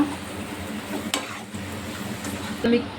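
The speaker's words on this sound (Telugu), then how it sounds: "ఇది వేసి బాగా మిక్స్ చేసుకోవాలి ఈ ఆనియన్స్కి కలిసిపోయేలాగా మిక్స్ చేసుకోవాలి" A spoon stirs an onion and chilli masala mixture in a frying pan for an egg curry, with soft scraping and a steady low sizzle throughout, close and continuous.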